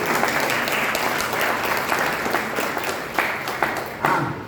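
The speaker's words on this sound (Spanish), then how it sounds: "Así que un aplauso para Javier." An audience at a book presentation gives Javier a warm round of applause, a dense, close wash of many hands clapping that tapers slightly toward the end, with a few sharper claps standing out.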